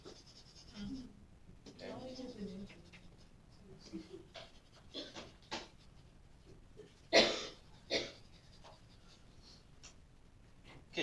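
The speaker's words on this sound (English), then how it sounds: "Having said that, I'm going to erase these." A board being erased after a math test review lesson, with soft rubbing and scrubbing strokes coming in short bursts, two louder swipes near the end, and brief speech at the start.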